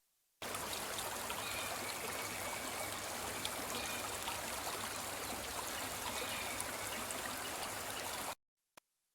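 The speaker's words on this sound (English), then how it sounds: "add in this streams and bird texture that comes from the Cymatics Life Bank, and that one just sounds like so" Stream and bird ambience sample from the Cymatics Life Bank: a continuous trickling, bubbling brook with faint bird chirps, steady and even for about eight seconds before cutting off abruptly.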